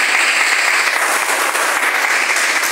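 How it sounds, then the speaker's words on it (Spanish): Steady, dense applause from a church congregation at a solemn Mass fills the space, a continuous wash of clapping hands lasting throughout without any voices. "un fuerte aplauso para él"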